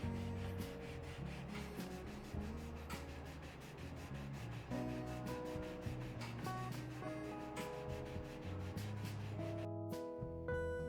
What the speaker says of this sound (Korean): 블럭사포를 이용해 면과 각을 정교하게 다듬어 줍니다